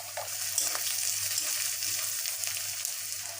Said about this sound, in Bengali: একটু পেঁয়াজগুলো লাল করে ভেজে নেব।